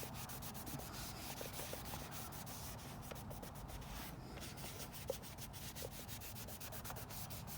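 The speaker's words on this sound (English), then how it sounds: "Usually I express some WD-40 because it gives it the beautiful look." Cloth rubbing and wiping over a commercial Vulcan fryer with WD-40, a quiet continuous scrubbing with rapid repeated strokes, close and soft.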